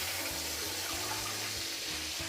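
Water pours steadily into a cooking pot, a continuous close rushing splash lasting the whole moment, about 1.75 litres added to tomatoes while preparing thieboudienne-style tiebou guedj with smoked kong fish.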